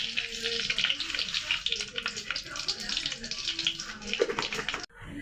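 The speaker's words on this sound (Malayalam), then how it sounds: "ഇപ്പോൾ എണ്ണ ചൂടായി വന്നിട്ടുണ്ട് നമുക്ക് കടുക് ഇട്ട് കൊടുക്കാവേ" Mustard seeds spluttering in hot oil for a jackfruit-seed curry, a dense steady crackle and sizzle that runs nearly the whole time before cutting off abruptly near the end.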